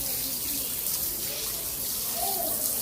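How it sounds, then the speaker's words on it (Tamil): Hands are washed under a running tap, a steady close stream of water with faint splashing shifts, while a voice talks faintly underneath. "நான் கை கழுவிட்டு இருக்கிறேன்."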